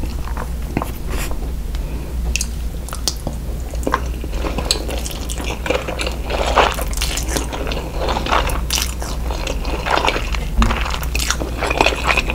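Crunchy fried mac and cheese balls from the Cheesecake Factory bitten and chewed up close, with repeated crisp crunches and crackles in an irregular rhythm over a low background rumble, with no speech.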